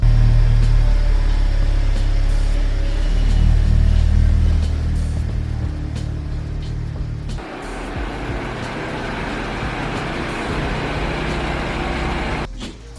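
A car engine rumbles at a steady, low idle up close in a garage while cars are being moved. The engine note drops and shifts partway through, then carries on in the background.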